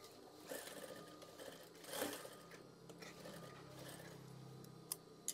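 A sewing machine stitches a curtain tie, its rapid mechanical whir running steadily and quietly at close range, with a few soft clicks near the end.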